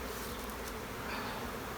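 Honey bees hum from an opened hive of a queenless colony being readied for queen-cell grafting, a dense, steady, close buzz that fills the whole stretch with no voices.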